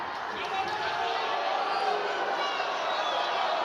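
Spectators at a men's judo final block in Tbilisi, Grand Slam 2024, send up a steady, dense arena roar of murmuring and cheering that holds at an even level throughout, with a commentator talking over it.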